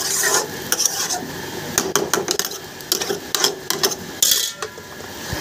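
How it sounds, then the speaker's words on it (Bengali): A bottle gourd fry is stirred in a pan, with repeated close scraping and clinking strokes of a spatula over a light sizzle. "লাউটা ভাজিটা নেড়ে দিই"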